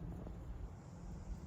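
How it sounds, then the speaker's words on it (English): Wind buffeting a microphone outdoors on sandy ground, a low uneven rumbling roar with gusty swells throughout, fairly faint and with no speech. "it's pretty windy, so I hope you can hear me"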